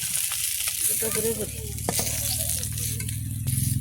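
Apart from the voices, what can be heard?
fish frying and sizzling in a pan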